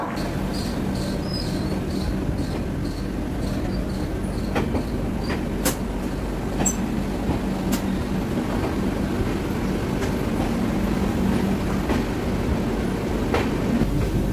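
The Ganga Sutlej Express, an Indian passenger train, runs steadily after leaving Dhanbad Junction, heard from inside as a constant low rumble with scattered clicks and rail knocks throughout.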